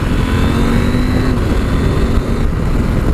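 KTM 790 Adventure R motorcycle under hard acceleration while overtaking a car, a loud continuous engine roar with wind rush that rises in pitch, then steps down briefly as it shifts.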